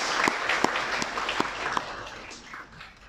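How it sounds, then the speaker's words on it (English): Audience applause at an education forum in Cambodia, a short burst of clapping from a crowd that swells and then fades over a few seconds. "give him a big round of applause"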